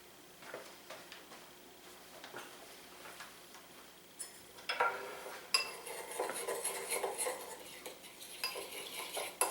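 A spoon clinks and scrapes against a bowl while confectioner's sugar is stirred into whole milk, soft ticking taps at first, then quicker, brighter scraping strokes growing louder and steady toward the end.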